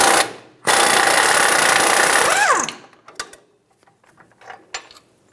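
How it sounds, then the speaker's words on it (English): A power tool whirs loudly for about two seconds as the nut comes off a strut bolt on a 2007-2017 Ford Expedition front suspension, then winds down, followed by scattered light metallic clinks and handling noises. "We're going to hold the head of the bolt while we remove the nut."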